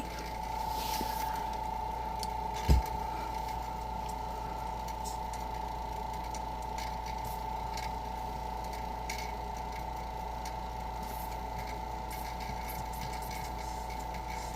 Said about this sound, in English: I think our vacuum pump is cold.